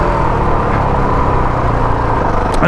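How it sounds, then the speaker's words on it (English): A Honda CRF450L big single-cylinder motorcycle rolling downhill off the throttle on a damp off-road trail, its engine braking as a steady, loud, close rumble with no talking. "It's got a nice bit of engine braking going downhill, so you can just kind of let off the throttle and just roll down"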